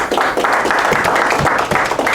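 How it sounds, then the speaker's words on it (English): A religious gathering gives a round of applause, loud and close, dense clapping from many people sustained for the whole stretch with some individual claps punching through. "Give our brother a round of applause"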